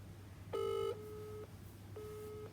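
A telephone engaged tone on a call: steady electronic beeps, one loud burst followed by two longer evenly spaced tones with pauses between, heard alone over a low hum.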